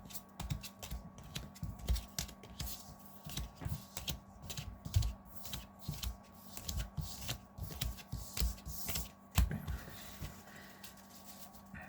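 Playing cards are shuffled in quick, repeated riffles and taps, a steady rhythmic flicking close up with no talking.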